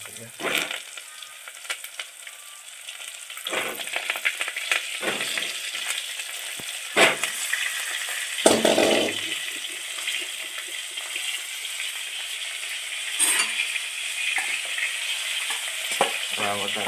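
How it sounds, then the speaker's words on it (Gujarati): Stuffed brinjals fry in hot oil in a pan for a Gujarati bharva ringana sabji, giving a loud continuous hiss and crackle with occasional spatula scrapes and bursts of sizzle, no voices. "આ ભરેલા રીંગણા છે એ મૂકી દેવા ભરેલા રીંગણા ડાયરેક્ટ"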